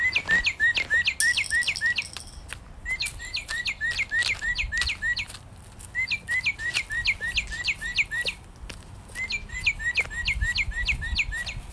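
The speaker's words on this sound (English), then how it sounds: "let's see this bird say goodbye too" A bird chirps in quick repeated bursts, with several lively phrases broken by short pauses over about twelve seconds. It is fairly close and clear, with no talking.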